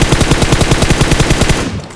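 Rapid automatic gunfire from PUBG Mobile as a full magazine is sprayed at a target: a dense, loud burst of closely spaced shots lasting nearly two seconds, then cutting off.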